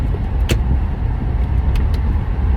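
Inside a moving car, a steady low road and engine rumble fills the cabin, with a few brief sharp ticks or clicks over the continuous drone.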